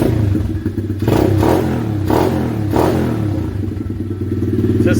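An X-Pro 125cc dirt bike engine runs loud and close, revving up on the throttle three times over a steady idle, with faint talk underneath.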